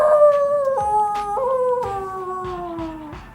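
A child imitates a wolf howl, holding one long, loud, clear wavering note that steps down in pitch and fades at the end.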